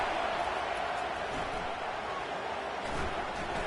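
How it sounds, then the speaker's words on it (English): Dense crowd roar in a CFB25 college football video game, the home crowd cheering loudly on a third-down defensive stand, a steady wall of noise throughout with no pauses. "Decibels rising as the crowd gets behind this defense on 3rd down."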